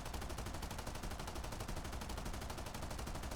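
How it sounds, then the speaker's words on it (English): A B-29 Superfortress gunner in a flight game fires a steady, rapid stream of machine-gun rounds, a dense unbroken rattle that stays loud and even throughout. "I go into the gunner view, and now I'm just going to try to get a shot off on him."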